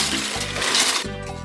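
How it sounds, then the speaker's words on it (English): Noodles tipped into a pot of boiling water on a home stove give a close, steady watery rush and bubbling that rises briefly, with no one speaking. "make sure your water is to a boil so that you can go ahead and add in the noodles"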